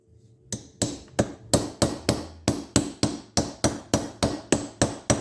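A hammer striking bearing races into a CompAir mobile compressor wheel hub, a dozen sharp metallic blows at a steady, even rhythm, loud and close, with no talk.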